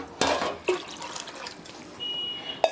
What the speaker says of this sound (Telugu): గిన్నె ఫుల్ వేసేసి ఇంకొక 1/2 గిన్నె నీళ్ళు పోసుకున్నాను